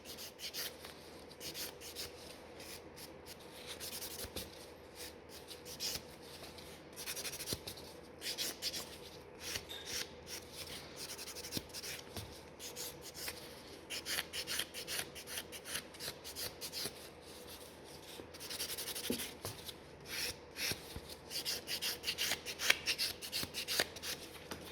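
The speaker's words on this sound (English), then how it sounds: "all this buffing doesn't take long, but it will make the nails look much prettier" A nail buffer rubs back and forth across fingernails in quick, soft, scratchy strokes, close and faint, continuing steadily with brief pauses.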